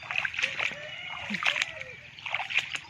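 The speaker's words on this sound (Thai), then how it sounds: "น้ำไหลจะพี่น่องน้ำตื้อเลย" Water flowing in a shallow stream during fishing, with splashing and sloshing close by and a voice talking over it.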